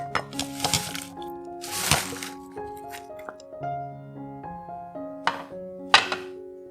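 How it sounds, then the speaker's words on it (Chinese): Fried king oyster mushrooms tipped into a large bowl: a few crisp clinks and dull knocks against the bowl, with rustling bursts as the pieces tumble in, close and clear over soft background music. "将炸好的杏鲍菇倒入大碗里"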